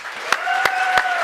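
A conference audience at a yacht sales summit claps for Charles Payne, a dense close burst of applause with a few louder claps standing out, with faint voices mixed in.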